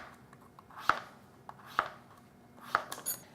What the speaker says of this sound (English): I'm going to cut this into thin slices